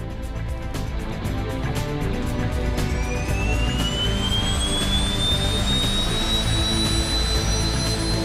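Steady, loud turboprop engine drone fills the cockpit of a King Air aircraft on an instrument approach into Telluride, with a rising whine gliding upward over the constant roar.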